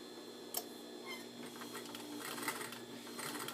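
A sewing machine stitching fabric for a jabot pattern, a soft, steady mechanical whir with faint ticking, close and quiet.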